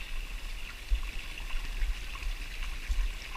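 A small forest creek runs with fresh water after rain, giving a steady, close trickling and rushing wash with faint low thumps and no voices.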